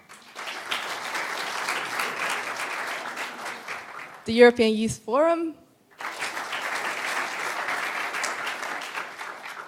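Dense, steady clapping from a conference audience at a youth conference in Riga fills the room. A speaker's voice briefly breaks through partway, then the applause resumes just as strongly.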